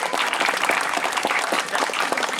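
Steady applause from a crowd, a dense continuous patter of many hands clapping at even loudness throughout.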